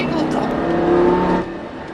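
Lamborghini Gallardo LP-560 V10 pulling hard from inside the cabin, a strong sustained engine drone that eases off near the end, with someone speaking over the engine.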